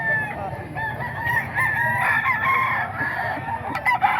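Roosters crow loudly and close, several overlapping calls with clucking beneath, filling the stretch with a dense chorus of fowl and no speech.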